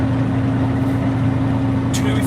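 A 2007 Kenworth T800 dump truck engine runs with a steady low idle drone and a strong low harmonic hum throughout, heard from inside the cab. A brief rustle occurs near the end.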